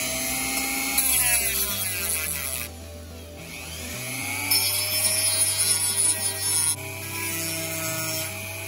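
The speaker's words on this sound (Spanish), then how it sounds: "Ahora lo vamos a arreglar con el dremel y una lima." Close, high whine of a Dremel rotary tool grinding on a die-cast Hot Wheels car, pitch dipping and rising as it bites in and eases off, running alone without talk.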